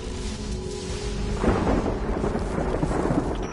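A thunderstorm in the video game Destiny rumbles on, with a steady wash of rain and a deep, rolling thunderclap swelling midway and lingering loudly to the end, without speech.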